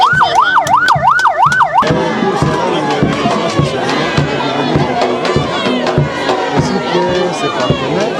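A medical Jeep ambulance siren wails in a regular rising and falling cycle, loud and close, then gives way to a busy crowd murmur with voices and scattered knocks.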